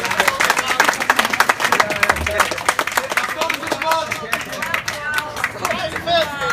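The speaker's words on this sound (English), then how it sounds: "A round of applause for that, man. What a great speech." Applause from a wedding reception crowd right after a best man's speech, steady dense clapping with scattered cheers and crowd chatter, fairly loud and continuous throughout.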